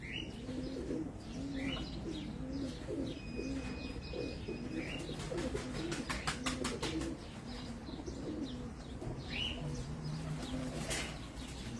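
Rooftop pigeons in Abu Dhabi coo steadily in low rolling phrases, with bursts of wing flapping and occasional chirps, fairly close and continuous throughout.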